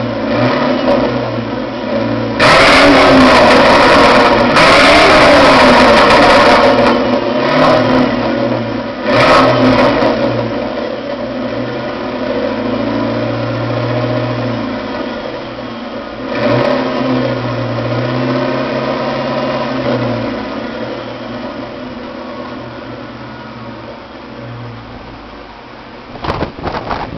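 A 1996 Ford Mustang GT with Flowmaster 40 mufflers and a UPR X-pipe rumbles loudly nearby, with repeated revs rising over a throaty idle for almost half a minute.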